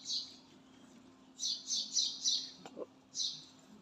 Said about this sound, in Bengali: আর এই পাখিটা রোজ এখানে এরকম করে ডাকতে থাকে,